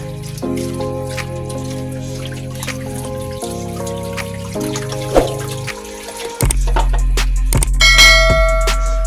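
A boiled pork leg is rinsed under running water, a trickling, splashing stream with occasional drips, heard over sustained ringing, bell-like tones.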